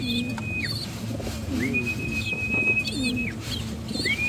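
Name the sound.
pigeons cooing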